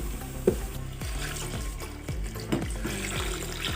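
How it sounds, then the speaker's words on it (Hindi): Water and yakhni stock being poured into a pot of beef pulao spices, a quiet continuous liquid pour with a few clinks and splashes, no talk. "और अब इसके अंदर मैं पानी लगा रही हूँ।"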